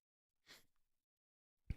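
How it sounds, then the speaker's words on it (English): A single quiet sneeze, a brief breathy burst followed by a short sharp low thump a moment later, set against near silence. "That sneeze really got to me."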